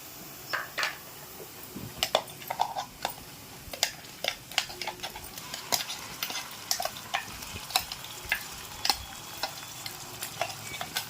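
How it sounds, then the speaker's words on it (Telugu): Masala paste frying in a pan with browned onions for a meal maker tomato curry, a steady sizzle broken by frequent sharp scraping ticks from stirring, close and fairly quiet, with no talking. "ఇప్పుడు ఇందులోకి మసాలా పేస్ట్ అంతా కూడా వేసేసుకుందాం"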